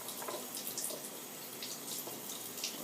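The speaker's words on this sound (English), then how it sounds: "Sorry for any noise, water noise that bothers you." Tap water runs steadily into a sink while dentures are rinsed, a continuous close hiss with faint splashing and no talk.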